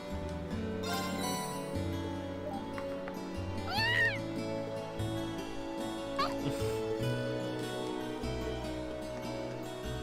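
A black cat in Trails of Cold Steel gives a few short meows with rising and falling pitch over a steady background of game music.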